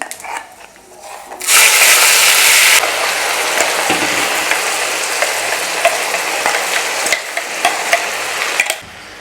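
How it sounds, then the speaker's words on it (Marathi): Onion, tomato and coconut paste hits hot oil in a pan for a spicy soya masala, bursting into a loud, steady sizzle that settles into continuous frying with scraping stir strokes, no voices. "आता यामध्ये आपण कांदा, टोमॅटो आणि खोबरं याची पेस्ट जी केलेली होती ती यामध्ये टाकून घेणार आहोत आपण."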